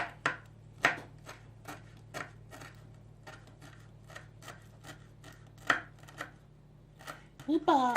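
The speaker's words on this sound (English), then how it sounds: "So, I'm going to quickly cut all these eggs." A knife cutting eggs: sharp, close chopping taps at an uneven pace, quiet overall, with a low steady hum underneath.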